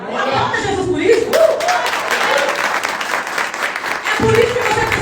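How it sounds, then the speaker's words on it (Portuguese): A church congregation bursts into loud, dense applause that swells and then fades, with a preacher's voice speaking over it at the start and end. "Aplauda Jesus por isso."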